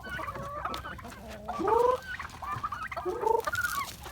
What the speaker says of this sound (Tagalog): meron pa dito mga babae at lalaki na Rhode Island Red, upgraded na lalaki